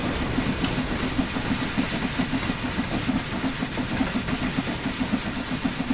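A steam locomotive in Train Sim World 3 chuffs at a steady rapid rhythm, with a continuous hiss of steam over a rumbling running drone, close and loud, with no voices.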